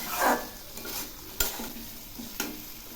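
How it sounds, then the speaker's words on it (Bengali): A spoon stirs and scrapes cashews and spices in a sizzling kadai, with a few sharp clinks against the metal amid the frying. "এখন ঘন ঘন নাড়তে থাকবো, তাছাড়া কাজুগুলো কড়াইয়ের সঙ্গে লেগে যাবে"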